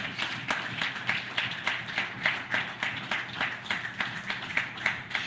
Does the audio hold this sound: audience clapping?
yes